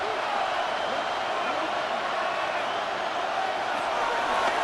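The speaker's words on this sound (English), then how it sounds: "This crowd doing everything they can before 3rd and goal." A large football stadium crowd at a Carolina Panthers at Arizona Cardinals game roars loudly and steadily before a 3rd-and-goal play, forming a dense wall of cheering with no breaks.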